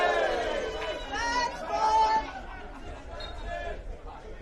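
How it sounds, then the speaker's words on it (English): Spectators at a St George FC v UNSW FC men's NPL NSW football match grumble and murmur in a dense mid-level crowd hubbub, with scattered calls rising and falling over several seconds. "St. George crowd not impressed."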